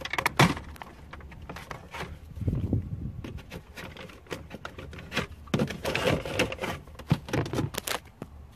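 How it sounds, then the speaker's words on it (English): A panel trim remover pries the radio bezel out of a 1994–2000 Ford Mustang dash, giving a quiet run of plastic clicks, snaps and scraping taps in irregular bursts, close up and alone. "your panel trim remover, and this should be able to pop right out of place here"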